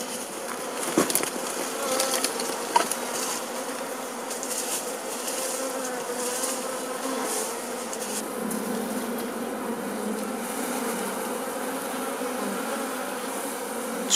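A close, continuous swarm drone rises from homeless honeybees as they are gently moved into a hive on Jirisan, with a couple of brief knocks near the start and then steady buzzing throughout.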